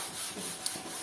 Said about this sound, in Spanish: Estoy lijando toda una parte de la cabeza porque le quiero hacer un tratamiento